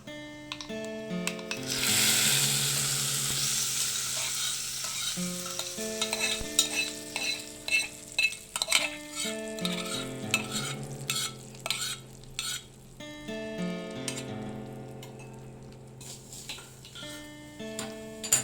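A spoon stirs hot tempering into homemade chutney in a pot, with an opening burst of sizzle followed by rhythmic clicking scrapes and taps against the vessel, close-up with music in the background.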